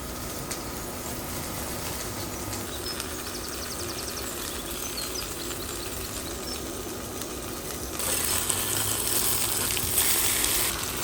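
Mushrooms and potatoes for a Konkani mushroom rechaad masala fry in a pan, a soft continuous sizzle that grows brighter and louder with hissing near the end.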